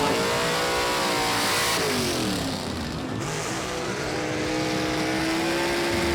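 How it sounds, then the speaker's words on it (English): A drag-racing gasser car with a Cox race engine revs loudly and continuously at the track, its rising and falling engine tone dominating the whole stretch. "Cox race engine underneath the hood for Zach Hall in the homegrown."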